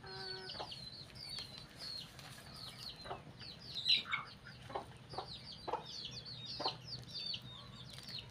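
A pet chicken clucks in short, irregular bursts close by in a quiet room, with a couple of louder calls in the middle and faint background noise throughout.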